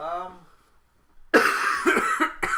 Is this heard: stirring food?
no